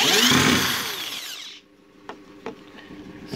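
A power drill backs screws out of a wooden board for a bed platform: a loud, close whirring burst that cuts off after about a second and a half, followed by a couple of faint, sharp clicks.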